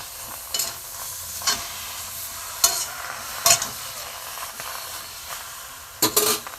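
Cauliflower leaves stirred in a dry wok, giving soft scraping and rustling with a few sharper clinks of the utensil against the pan, moderately close and alone, without speech.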